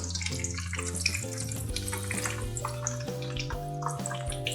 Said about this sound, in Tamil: நம்ம இதை மீடியம் ஃப்ளேம்லேயே ஃப்ரை பண்ணி எடுத்துக்கலாம்.